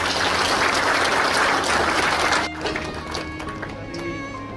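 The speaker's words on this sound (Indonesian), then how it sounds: "Tepuk tangan untuk dia" A crowd at the 19th Congress of the Baptist Church of West Papua applauds a guest with dense, loud clapping for about two and a half seconds. The clapping then breaks off into a quieter, thinning patter.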